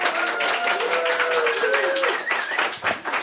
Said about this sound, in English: Maybe everyone can do a little round of applause.